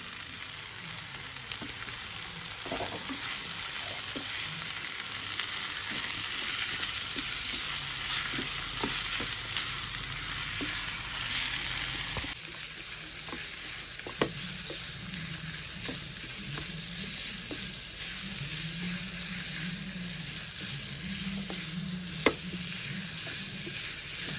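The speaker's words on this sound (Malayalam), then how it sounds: "ഇനി നമുക്ക് ഈ ചിക്കൻ ഇതിനകത്തോട്ടിട്ടിട്ട് നന്നായിട്ട് മിക്സ് ചെയ്ത് കൊടുക്കാം" Chicken pieces stirred and frying in a pan for a special chicken dish, a continuous close sizzle with repeated spatula scrapes and knocks running for the whole stretch.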